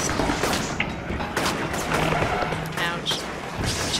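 Enemy gunfire in the video game inFAMOUS sounds as repeated sharp shots scattered through a busy, constant wash of game noise, fairly loud throughout.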